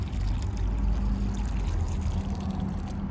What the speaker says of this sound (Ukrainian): дуже гарно пролити водою.